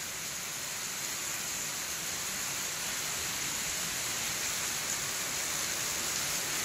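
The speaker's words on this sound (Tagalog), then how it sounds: "Grabe, sobrang ulan" Dense, steady hiss of heavy rain pouring down in Naga City, a constant wash of noise close by with no pauses or voices.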